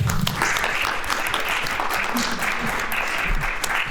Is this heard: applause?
yes